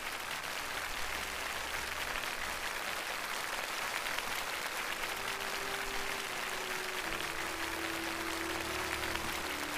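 Steady applause for teachers at a Teachers' Day television gathering, a broad, even wash of many hands clapping continuously at moderate distance, with faint tonal music underneath.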